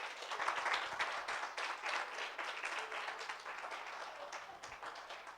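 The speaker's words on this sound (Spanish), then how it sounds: "Dele un aplauso al Señor por eso." Church congregation applauding during a sermon, a dense wash of clapping that swells early and gradually thins toward the end.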